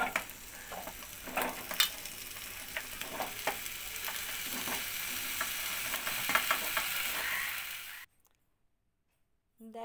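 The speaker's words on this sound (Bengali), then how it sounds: "এবার আমি এগুলোকে কড়াইয়ের মধ্যে দিয়ে দিচ্ছি।" Pumpkin, ridge gourd, eggplant and beans fry in hot oil in a kadai with a steady close sizzle, occasional stirring clinks, for about eight seconds before falling silent.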